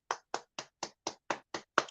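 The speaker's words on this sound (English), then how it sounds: "I'm going to applaud you." Eight sharp hand claps at a steady, even beat, close and fairly quiet, with no voices.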